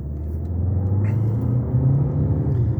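A Chery Tiggo 8 Pro accelerates in normal mode, its engine rumbling steadily and rising slightly in pitch, heard loud and close from inside the cabin.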